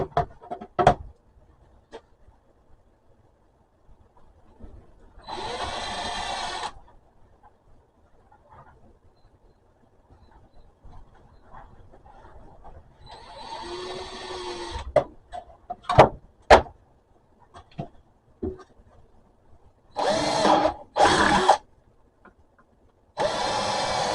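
A power drill bores holes into a power supply enclosure for a dishwasher-pump tank setup, heard as several short whirring bursts separated by quiet handling and clicks.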